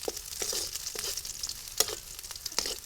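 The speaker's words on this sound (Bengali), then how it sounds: "এবারে রসুন কুচি দেবো আর এই কাঁচামরিচ দিলাম, দিয়ে ভালো করে নাড়াচাড়া করে" Onion, garlic and green chili frying in a pan, a soft continuous sizzle broken by repeated sharp scrapes of a spatula stirring them at a quick, uneven pace.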